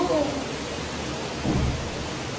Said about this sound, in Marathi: असा पाऊस पडतो ना जोरात